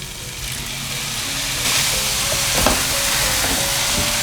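Shredded taro stir-fried in a wok with a splash of water added, giving a loud, continuous close sizzle and hiss with a few light scraping stirs, no voices.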